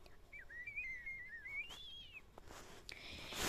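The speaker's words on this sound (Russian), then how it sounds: "В один момент вам послышится едва слышный свист." A faint lip whistle produced by practising hissing sounds, a thin wavering tone that rises and falls for about two seconds before fading into soft breathy noise and light clicks, heard alone without talk.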